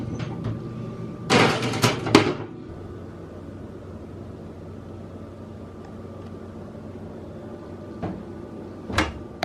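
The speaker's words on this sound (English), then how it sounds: "Putting them in the oven." An oven door opened and shut to put cinnamon rolls in to bake, two sharp clunks close together near the start and another clunk near the end over a low kitchen hum.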